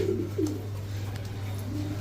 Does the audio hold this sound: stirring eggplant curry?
no